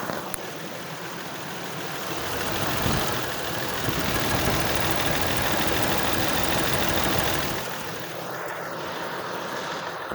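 2008 Ford F150 4.2L engine running just after repair of a sheared cam synchronizer gear and clogged oil filter, recorded up close on the motor: steady loud broadband drone and hum, swelling slightly midway, with no talk.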